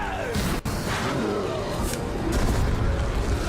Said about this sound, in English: There we go, using my explosions